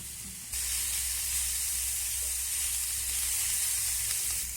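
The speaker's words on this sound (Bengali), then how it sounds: "এখন আবারও আমি নেড়ে চেড়ে এগুলোকে ভেজে নেবো" Mashed chicken frying in a pan as it gets stirred: quiet at first, then a sudden rise into a steady, even hiss of sizzling oil with faint stirring beneath.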